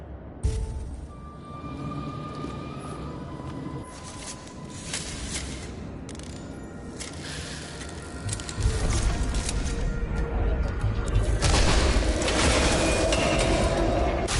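A chandelier hoisted by a mechanism in the video game Nobody Wants To Die, with steady grinding, ratcheting machinery that runs throughout and grows louder and heavier after the midpoint.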